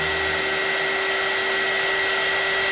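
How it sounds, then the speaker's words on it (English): Heat gun blowing hot air over Bake and Bond sculpting clay, a steady, even hiss with a faint high whine that holds unchanged throughout, close by and alone. "A heat gun is all you need for this."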